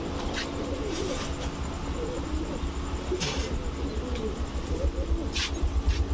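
A pair of big red Moyna pigeons, an old breed, coo softly several times among low background noise, with brief sharp clicks and rustles near the birds.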